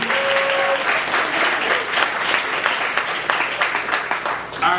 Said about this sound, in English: Let's have a round of applause for some of our other comedians